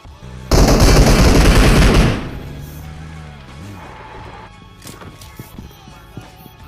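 Loud close automatic gunfire in the mobile battle royale game PUBG Mobile, one rapid burst of about a second and a half, followed by quieter game ambience with faint footsteps and small clicks.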